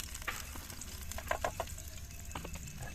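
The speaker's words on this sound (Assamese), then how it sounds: "পনীৰকেইটা ভাজা হৈ গৈছে গাইজ চাব পাৰি ধুনীয়াকৈ ভাজি লৈছোঁ" Pieces of paneer fry in a pan, giving a soft steady sizzle with a few brief clinks and stirring sounds over low background noise.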